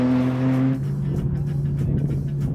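A right-hand drive street car runs hard on a race track, its engine loud and close. The note drops sharply early on, then settles into a steady roar.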